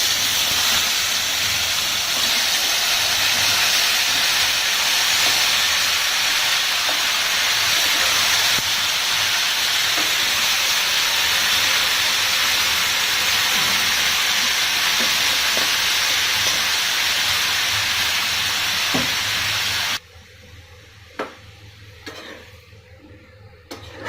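Tomatoes hit a hot pan for tomato thokku, setting off a loud, steady hissing sizzle that holds for about twenty seconds, then cuts off to near quiet with a few soft knocks.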